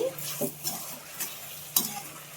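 Rock salt being stirred into tomato egg curry in a pan: several short scraping spoon strokes at irregular intervals over a soft sizzle, close and moderately loud, with no talking.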